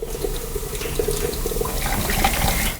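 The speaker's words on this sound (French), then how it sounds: "le formaldéhyde est déversé dans les égouts" Liquid formaldehyde poured from bottles into a sink, a steady close splashing and gurgling flow running continuously throughout.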